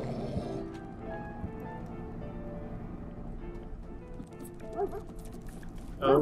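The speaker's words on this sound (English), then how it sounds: "These dogs are really whining." Guard dogs whine and bark in the Monaco heist video game, faint yelps and whimpers over a steady game soundtrack, with a louder burst right at the end.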